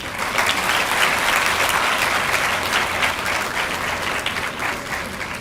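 A university audience at a French translation book release for Fearless Governance at Pondicherry University claps steadily, dense continuous applause from a sizeable crowd, loud and sustained throughout.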